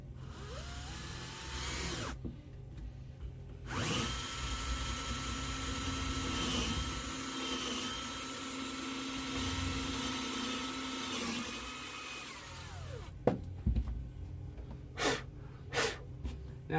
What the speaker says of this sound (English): I'm going to drill 5/16